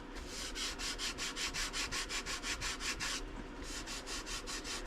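A small wooden piece is sanded by hand in steady back-and-forth strokes, close and even, with a brief pause before the rubbing resumes.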